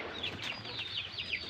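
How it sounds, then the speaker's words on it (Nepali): Backyard hens give a steady series of rising, squeaky clucks, about six in quick succession, close and clear over a soft outdoor background hum. "यहाँ छ कुखुरा"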